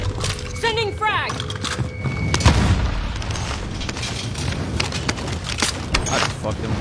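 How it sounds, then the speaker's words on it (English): A frag grenade blast booms in a first-person shooter, followed by a steady spatter of gunfire and scattered game effects, with a player's voice talking over the action throughout. "Sending frag!"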